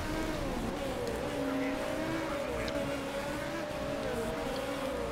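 Race cars lapping in the MotorSport Manager game, a continuous droning engine whine with shifting pitch as the cars run close together, steady and moderately loud under a French-speaking commentator's voice.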